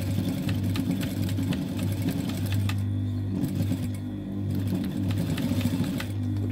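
A sewing machine darns a skirt with a steady, close mechanical whir and rapid needle clatter that runs continuously, with brief pauses in the high ticking, and no one speaks.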